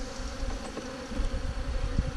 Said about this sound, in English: right now I have really mad bees